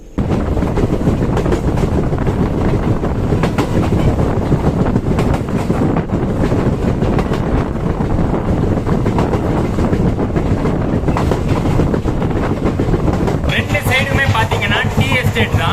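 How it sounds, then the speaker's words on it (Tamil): A passenger train rumbles steadily along the tracks through a tea estate in Assam, loud and close, with heavy wind buffeting the microphone throughout. "லிட்ரலி ஒரு பேசஞ்சர் ட்ரெயின், லோக்கல் ட்ரெயின் மாதிரி ரன் ஆக போகுது"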